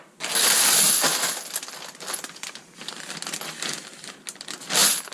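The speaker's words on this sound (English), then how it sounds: "I put the brass inside a Ziploc bag." Brass .223 cartridge cases shaken inside a Ziploc bag with sizing wax, a loud dense metallic clinking and plastic crinkling that swells, eases into smaller shuffles, then surges again near the end.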